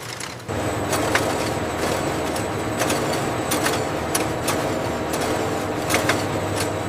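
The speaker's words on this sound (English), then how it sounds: "Let's run this through the sealer now." Steady machine drone with a low hum and broadband rumble from a sealer running in a bamboo textile factory, with sharp intermittent clicks or taps repeating over the continuous noise.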